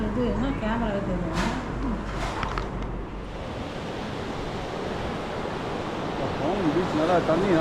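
Sea waves wash onto a beach in Oman as a continuous broad surf roar mixed with wind buffeting the microphone, with a few brief voices early on.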